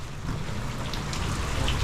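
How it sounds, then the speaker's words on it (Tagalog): Steady heavy rain pours down at night in the Philippines, a dense, continuous hiss and patter close by with a deep low rumble underneath and no voices. "Masyado lang po maulan."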